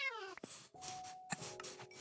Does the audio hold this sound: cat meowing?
yes